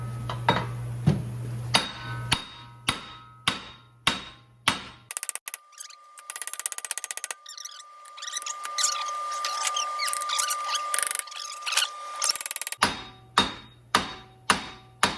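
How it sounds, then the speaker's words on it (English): Sharp metallic hammer blows ring out in a steady series on a 2015-2020 Subaru Outback wheel hub assembly, pausing for a stretch of clanking and scraping, then resuming with regular strikes. "we're gonna start hammering"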